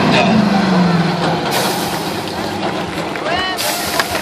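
Engine of the Bigfoot Ford monster truck at a stunt show, a loud continuous roaring drone, with an announcer talking over it.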